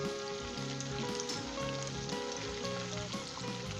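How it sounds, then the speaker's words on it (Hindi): Beef mince fries over medium heat with a continuous, rain-like crackling sizzle at a moderate level, a melodic backing running steadily beneath it. "मीडियम हीट के ऊपर 1 मिनट हम इसे फ्राई करेंगे।"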